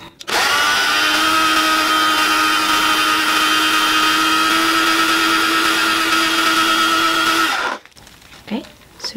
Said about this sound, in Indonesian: Namun untuk wheatgrass-nya ini akan saya masukkan ke blender.